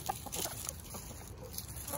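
Low, soft clucking from chickens close by, with a few short scratchy calls scattered over a quiet farmyard background.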